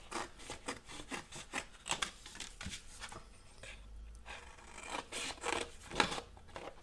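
Scissors snip repeatedly through thick 300 gram watercolour paper in a quiet room, giving a series of close, crisp crunching cuts with brief pauses between strokes.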